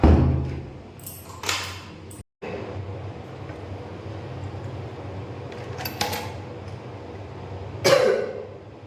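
A person coughs a few times in a quiet indoor room, with brief harsh bursts separated by a steady low hum from a fan.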